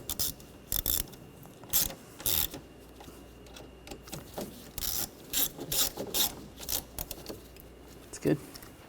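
Ratchet clicking in short repeated bursts while tightening screws on a 2013-2019 Ford Escape front strut and spring assembly, close and moderately loud with pauses between bursts.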